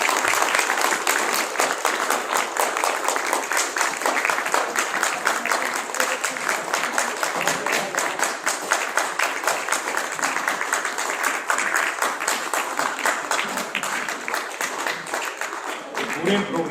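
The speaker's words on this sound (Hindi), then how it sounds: "दोस्तों एक बार तालियां जोरदार कर दीजिए" Sustained audience applause at a business program event, many hands clapping in a dense, continuous roar that holds steady for over sixteen seconds, with some voices faintly mixed underneath.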